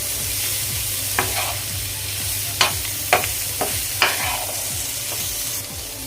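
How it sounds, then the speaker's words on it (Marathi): Cauliflower being stirred into masala in a pan, a low steady frying hiss broken by several sharp scrapes and knocks of the spoon against the pan. "फ्लॉवर इथे व्यवस्थित असा मिक्स करून झाला आहे"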